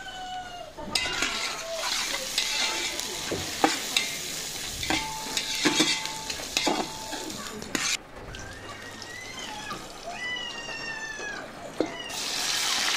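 Onions fry in oil for chicken dum biryani, a continuous close sizzle overlaid by frequent spoon scrapes and clatters as they are stirred, with some faint high chirping sounds later on.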